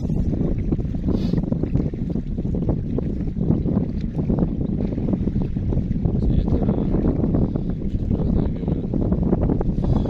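Steady wind buffeting the microphone on a lakeside carp-fishing outing, a constant low roar that fills the whole stretch with no pauses.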